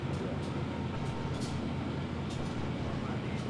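A passenger train in Trainz Simulator easing its throttle down while slowing toward a station, a dense continuous rumble with faint periodic clicks of rolling wheels and no talk.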